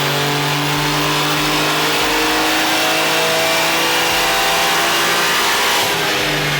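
A tuned BMW G87 M2 engine revs hard on a dyno, a loud, sustained mechanical howl with steady rising harmonic tones and a brief lift near the end, alone with no talking.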